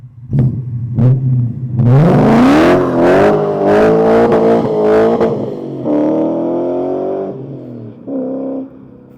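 BMW E39 M5 track car with an upgraded exhaust revs hard, climbing into a loud sustained roar with several throttle blips before dropping back toward idle, close and alone.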